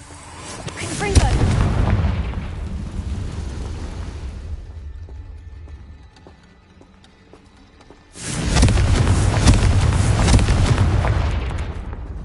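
Two broad, loud blasts from the Confringo fire spell in Hogwarts Legacy, each a heavy booming burst that rolls on for several seconds, separated by a quieter rumbling gap.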